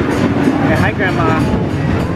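Small ride-on train at Fairytale Town rumbling steadily with a continuous clattering roll, loud and close, while voices talk over it.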